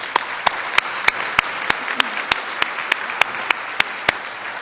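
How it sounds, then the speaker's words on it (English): A round of applause from the audience at a Donate Life Northwest Lifesavers Breakfast fills the room with a steady wash of clapping. A regular series of sharp, loud claps stands out on top of it, and no one speaks. "So please give yourselves a round of applause"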